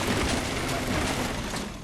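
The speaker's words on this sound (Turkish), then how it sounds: "Silah sesleri geliyor." Dense, continuous rapid gunfire in Fortnite, loud and sustained with no pauses, a steady barrage of shots blending into a roar.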